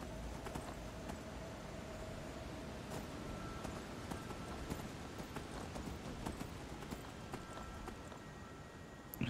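Hooves of a horse being ridden in Skyrim clop in a steady, brisk rhythm at moderate distance, fairly quiet and continuous with no talking.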